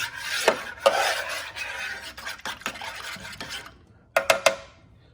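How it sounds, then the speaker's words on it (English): A spoon stirring a citric acid solution for cleaning brass, with continuous scraping and swirling against the container, then a few sharp clinks of the spoon on the rim at the end. "Stir it up a bit with a spoon, just get everything mixed up all around the edges"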